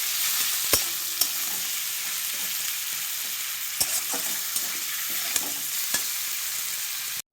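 Chicken pieces sautéing in a pan, a continuous sizzle broken by sharp scattered clicks and scrapes of stirring.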